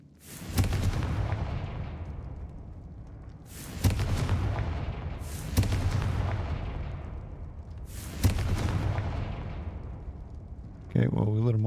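Fire spell blasts in the Hogwarts Legacy video game: four loud, sharp booming explosions at regular intervals, each tailing off into a rumbling decay, followed by a brief burst of crackling at the end.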